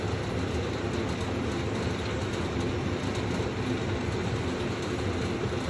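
An early-1970s Berns Air King 23-pint dehumidifier using R12 refrigerant runs with a steady, broadband rumbling hum, close and continuous without breaks for several seconds.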